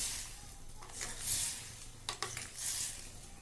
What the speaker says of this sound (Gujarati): આમાં હવે મેં જે જીરાસરના જે ચોખા ધોઈને લીધા હતા ને એ આમાં એડ કરી દઈશ અને આ બધું જ આવી રીતે હલાવી દઈશ